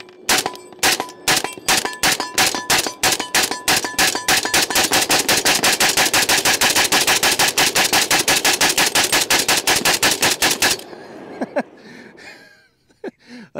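A Galil rifle fires long rapid strings of loud, sharp gunshots, spaced at first and then packed into a fast continuous volley, before the firing cuts off and a brief quiet tail remains.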